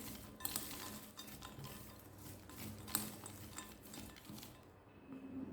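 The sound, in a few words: stirring peanut masala chaat mixture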